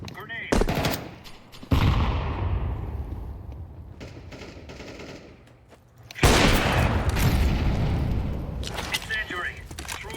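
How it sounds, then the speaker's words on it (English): Shooter video game combat with rapid bursts of automatic gunfire and heavy explosive booms, loud and dense, in two main intense stretches separated by a brief quieter lull. "Throwing a grenade"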